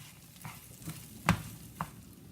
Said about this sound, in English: Fry for 1 minute.